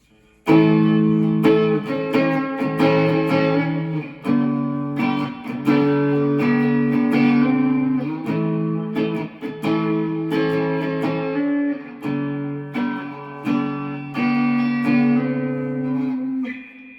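An electric guitar on its middle pickup position, with tone and volume controls fully up, plays a sequence of ringing chords and notes up close, each strum sustaining before the next, with no talking.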